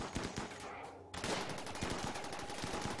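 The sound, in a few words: gunfire in the video game RimWorld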